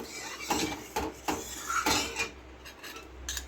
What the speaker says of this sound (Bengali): দিয়ে ভালো করে নাড়াবো কষে নাড়তে হবে